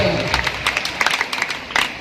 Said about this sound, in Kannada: ಅವರಿಗೆಲ್ಲರೂ ಒಂದು ಚಪ್ಪಾಳೆ ಮತ್ತು ಗೌರವ